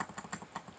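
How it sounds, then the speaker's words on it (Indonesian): Rapid keystrokes on a computer keyboard while a script is typed, close and crisp, with an even, quick clatter of keys and no talk. "di sini saya akan ketikkan scriptnya"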